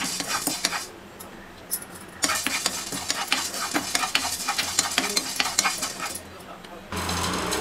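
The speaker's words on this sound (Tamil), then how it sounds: "இது எல்லாத்தையும் இந்த பேனில் சேர்த்துட்டு லோ ஃப்ளேமில் ஒரு 3லேருந்து 4 நிமிஷத்துக்கு நல்லா வறுத்து எடுத்துக்கலாம்" Whole spices being dry roasted and stirred in a pan over a low flame for Chettinad crab masala, giving a busy, continuous rattle and scrape of spoon on metal with light sizzling throughout.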